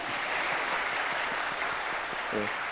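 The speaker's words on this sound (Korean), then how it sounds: "박수 한번 쳐야 되지 않겠습니까?" A church congregation applauds during a Sunday daytime service, a steady wash of many clapping hands at moderate level throughout, with a brief voice near the end.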